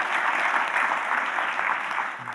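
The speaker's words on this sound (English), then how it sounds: "Can we get a round of applause for that?" An audience at a technical conference talk claps steadily in a dense, continuous burst of applause that fades slightly at the end.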